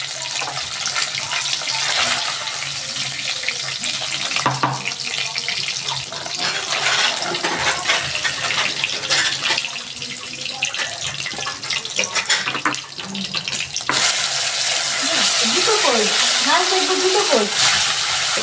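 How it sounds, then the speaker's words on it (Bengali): Loti fish frying in an iron wok, a steady sizzle and crackle of hot oil that goes on throughout, with intermittent scraping and stirring and some brief clatter of utensils and no voices. "আমি এইভাবে সব মাছগুলো ভেজে তুলে নিচ্ছি।"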